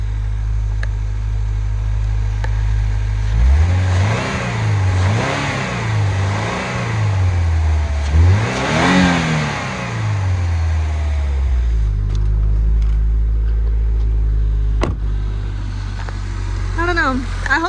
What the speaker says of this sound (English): I'm gonna rev it a little bit for you with the engine open like that.